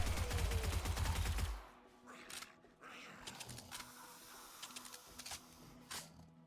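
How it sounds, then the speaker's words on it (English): Rapid submachine gun fire in the zombie survival game 7 Days to Die, a loud dense burst in the opening second and a half, then scattered gunshots and clatter at moderate level. "Gotta love SMG."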